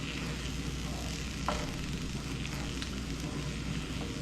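Tomato sauce bubbles and sizzles steadily in a pan on high heat, a constant close hiss with a faint stir or tap partway through, no talk.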